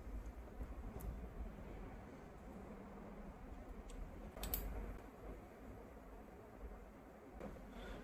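A few faint, sparse clicks of someone typing a password on a computer keyboard, spread over a quiet background hiss.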